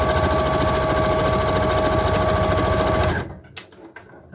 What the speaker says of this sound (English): let's hope my sewing machine wants to play this afternoon.